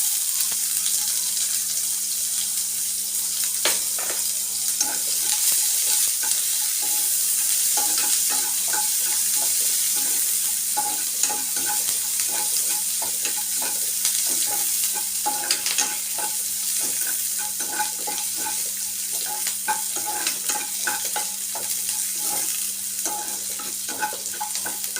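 Onions sizzle steadily in a hot pan for chicken roti, a dense continuous crackle close up with occasional stirring scrapes and a low steady hum beneath.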